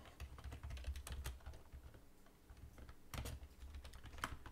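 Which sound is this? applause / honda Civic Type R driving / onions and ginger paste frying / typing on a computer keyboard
typing on a computer keyboard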